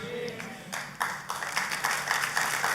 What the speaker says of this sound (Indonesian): Kalau tepuk tangan bisa nggak tepuk tangannya yang lebih meriah buat Yesus yang luar biasa